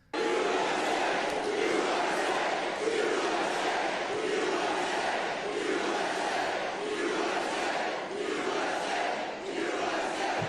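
A large crowd chants "USA" in a loud, steady rhythmic roar that repeats throughout, the massed voices filling the space with no pauses.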